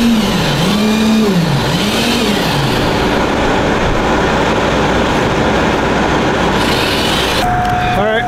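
A heavy concrete mixer truck pulls away from a home construction site with a low, rumbling engine that rises and falls in pitch as it revs and shifts, staying loud throughout before a brief higher tone at the end.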